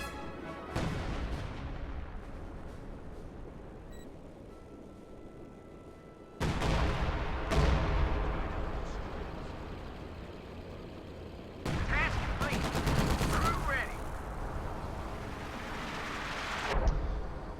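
Artillery from a Priest self-propelled gun and an LEFH howitzer in a World War II strategy game, heavy booms arriving in three separate waves, each fading into a rumbling tail, heard alongside talk.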